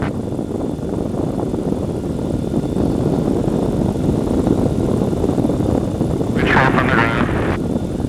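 A powered hang glider's engine and propeller drive it forward in a steady, continuous drone with wind rush. The sound is close and fairly loud, and a brief higher whine or voice sits on top near the end.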